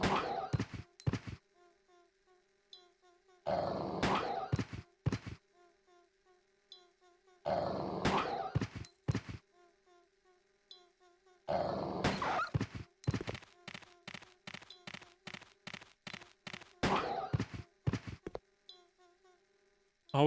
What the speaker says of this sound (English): Always wait for the growl.